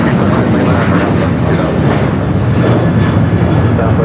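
A Boeing 737-800 without winglets at LAX, heard as a loud, steady broadband engine roar with no breaks, close and filling the whole stretch.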